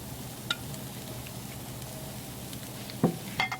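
Chicken thighs sizzling on an outdoor summer grill give a quiet, steady hiss, broken by a few faint clicks and one short knock near the end.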